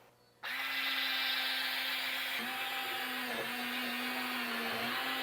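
A HOTO cordless spin scrubber whirs steadily against a greasy kitchen stove, switching on abruptly and holding a close, even motor hum with slight dips in pitch as the brush presses into the grime.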